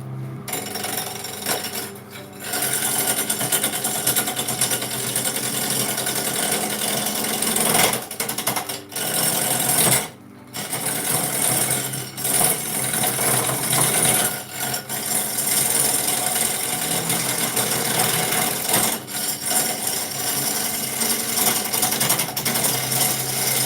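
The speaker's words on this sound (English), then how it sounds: "We'll use the roughing gouge thing again." A wood lathe spinning while a roughing gouge cuts the turning blank, a loud continuous rattling, chattering drone close by, with brief pauses where the cut stops, no talking.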